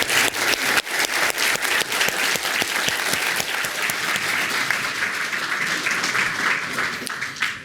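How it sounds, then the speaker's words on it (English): Sustained applause from an audience at the end of a lecture event on war powers, loud sharp claps at first settling into a steady, even roar. "give a round of applause for him"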